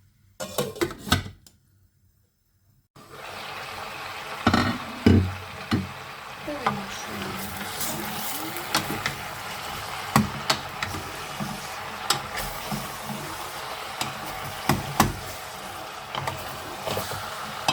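After a brief quiet moment, a steady hissing sizzle of chopped meat frying in a pan begins, dotted with sharp pops and crackles.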